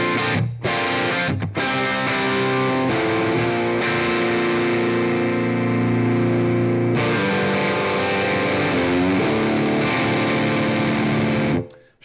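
Electric guitar through an AmpliTube 4 sim of a MESA/Boogie Dual Rectifier clean channel in pushed mode, playing chords and phrases with a slightly driven, sustained tone, loud and alone for about twelve seconds.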